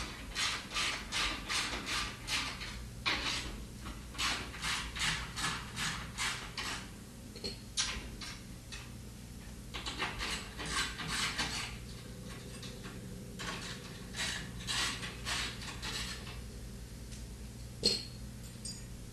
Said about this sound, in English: Using a 1/2" socket, remove the 6 tub to leg screws and plates.